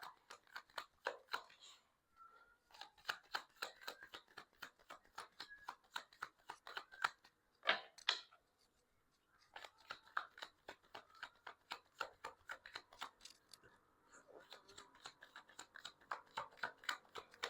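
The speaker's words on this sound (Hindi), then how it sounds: "मैं शफल कर रही हूँ" A deck of tarot cards being shuffled by hand, with rapid dry clicking and flapping riffles running nearly the whole time and a short pause around the middle; close and fairly quiet, with no talking.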